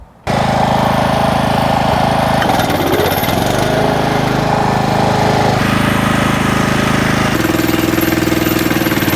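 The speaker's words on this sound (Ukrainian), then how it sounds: "Тому давайте спробуємо перенавантажити генератор Alco 3500C." An AL-KO 3500 C frame-type petrol generator running overloaded with a shredder connected, a loud, continuous, close engine roar whose pitch shifts and labours as the load changes.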